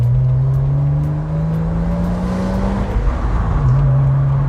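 A 1997 Porsche Boxster with a 2.5 petrol engine and five-speed manual, driven with the roof down, gives a steady, loud engine drone whose pitch rises slowly, then dips briefly and climbs again near the end.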